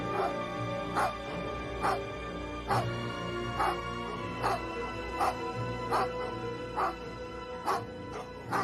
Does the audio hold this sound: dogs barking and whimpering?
yes